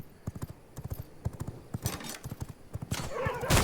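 A horse in the video game V Rising gallops with rapid, rhythmic hoof clops, then lets out a loud neigh near the end, heard close and without talk.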